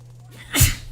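A single sharp human sneeze bursts out abruptly, loud and close, after a quiet background hum, then fades away quickly.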